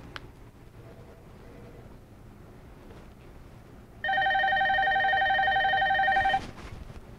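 A telephone rings with an incoming call in an office, a steady electronic ring lasting about two seconds over quiet room tone, with faint background noise around it.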